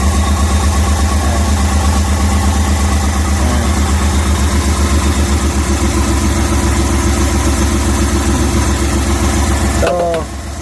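A Multicab engine idles roughly with a steady low thrum and uneven misfiring pulses, shaking and vibrating close by throughout, ending in a brief clunk; speech is faintly present underneath.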